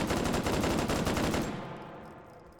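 A BAR rifle in Hot Dogs, Horseshoes & Hand Grenades fires a rapid string of about a dozen close, loud shots, then stops and the report rings out and decays for a second.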